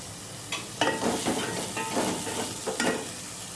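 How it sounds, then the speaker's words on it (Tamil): Sliced onion and green chili sauté in a pan while being stirred, with a continuous close sizzle and repeated scraping strokes of the spoon across the pan. "இதோடையே ஒரு வெங்காயம் நீல வாக்கில் வெட்டி வச்சுருக்கேன், அதையும் போட்டு நல்லா கலக்கிக்கலாம்."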